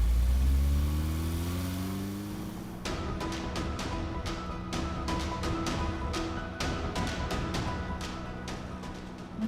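A car engine rises in pitch as the vehicle pulls away, a steady mid-range drone growing louder, then continuing under a burst of sharp clattering knocks and background noise in an indoor drama scene.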